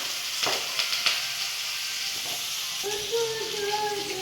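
Curry leaves hit hot oil in a pan with a soft frying hiss, with a few brief crackling bursts early on and a steady sizzle continuing underneath, no speech.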